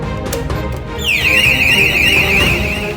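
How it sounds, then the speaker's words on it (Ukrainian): A fire alarm wails after a manual call point is triggered during a fire-rescue demonstration, its siren sweeping loud and steady after a few sharp knocks of glass being broken. "Яким чином Спрацьовує пожежний ручний сповіщувач."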